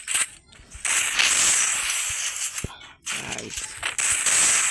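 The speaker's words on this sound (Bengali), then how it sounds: "আমরা নিয়েছি শর্ট গান, দেখা যাক এবারও এনিমিটাকে হেডশট মারতে পারি না পারি।" Loud, sharp shotgun blasts go off in a shooter video game, several cracks spread between stretches of game noise, with someone talking briefly.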